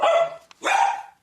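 A poodle gives two loud, close barks, the second longer than the first, with a brief gap between them.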